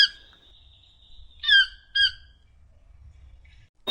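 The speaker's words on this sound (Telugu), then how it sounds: "టౌకాన్" A toucan calls in two short, harsh croaking bursts about half a second apart, preceded by a thin steady tone, fairly quiet over a low rumbling background with no talk.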